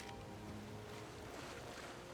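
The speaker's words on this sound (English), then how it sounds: "I can listen to that waterfall all day." Rushing waterfall in the fantasy game Skyrim, a steady broadband wash of falling water that runs unbroken and fairly faint, with soft tonal game music layered beneath it.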